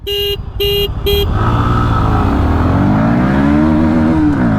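Three short horn toots, then a Bajaj Pulsar NS160 motorcycle engine revs up loudly and accelerates, its pitch climbing as it pulls away.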